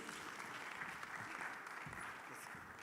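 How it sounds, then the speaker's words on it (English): An audience at a pre-bid conference claps in a faint, distant round of applause, a steady wash of hands with a few low voices underneath. "Give them one more round of applause."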